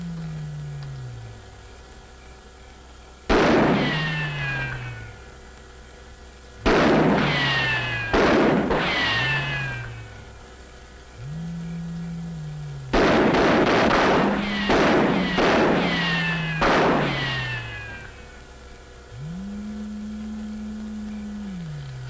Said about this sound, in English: Fire a few rounds.